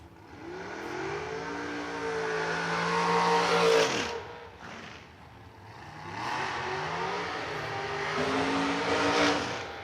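Dragster engine on a drag strip roaring loud and close at re-entry, a Danny Nelson chassis with a big scoop, revving in rising and falling swells with a brief dip near the middle before building again.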